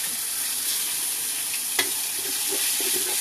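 Eggs being scrambled in a frying pan with onions at a restaurant in Thailand, giving a steady, close hiss of sizzling with a single sharp clink partway through.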